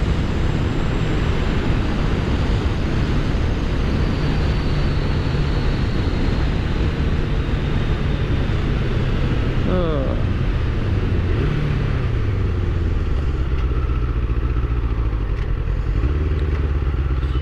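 Suzuki Katana motorcycle ridden at night, a loud continuous engine drone with wind roar, revs dropping and rising as gears change partway through.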